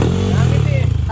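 A motorcycle fitted with a 63 basic setup and a JVT block runs close by with a loud, steady low engine throb, while people talk over it.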